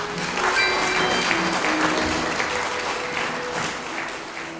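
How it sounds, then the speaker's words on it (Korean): Audience applause welcoming a guest lecturer at a colloquium on a three-dimensional Korean cosmos, steady broadband clapping from a hall crowd for several seconds, fading slightly at the end. "그럼 선생님 환영하는 뜻에서 박수 부탁드립니다."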